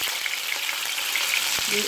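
Ghee is heated for a tadka and sizzles steadily with a dense, bright crackle close to the pan. A faint clink comes near the end.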